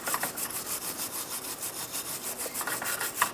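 Rubbing and scrubbing on the metal surface at the rear shock absorber mount of a 2004-2009 Mazda 3, cleaning it before installation; a steady rhythmic back-and-forth rasping, about six strokes per second, close and moderately loud.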